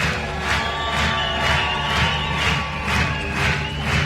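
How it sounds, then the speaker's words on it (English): A large crowd applauds and cheers at a dressage championship ceremony for young horses, a dense, sustained wash of clapping with swelling waves, heard from a distance over a steady hum. "The applause can be a little bit louder for Victoria's Secrets."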